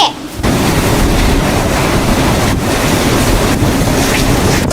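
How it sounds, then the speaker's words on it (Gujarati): Strong, roaring storm wind pounds the microphone as a constant loud, broadband rush with brief dips, and no other sounds stand out. "આ પવન નથી, આ તો વાવાઝોડું છે."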